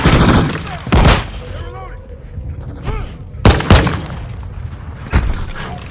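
Heavy gunfire in the Modern Warfare 2 campaign video game: loud, sharp shots and bursts in several clusters, with a voice speaking in between.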